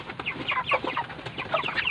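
Chickens clucking steadily in a coop, with many overlapping birds calling in short repeated bursts, close and fairly loud with no voices.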